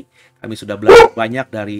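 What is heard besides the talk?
dog barking in the room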